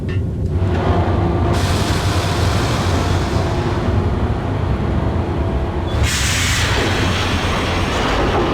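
A train rumbles past loudly in the 2001 PC game Max Payne, with a continuous heavy roar and rattling wheels that shift abruptly in tone partway through.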